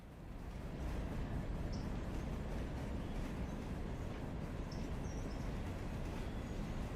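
Train locomotive running in the video game Railroader, a faint steady rumble with rhythmic clattering held at an even level, with no voices.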